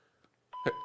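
A telephone rings with an incoming ADT Security Services alarm call: near silence at first, then a sudden loud electronic ringing tone starts just past halfway and carries to the end, with no talk over it.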